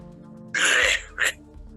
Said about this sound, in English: Sounds like you got a nasty cough there